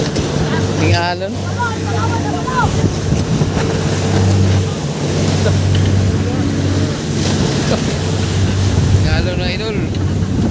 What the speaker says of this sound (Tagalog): Alon na idol.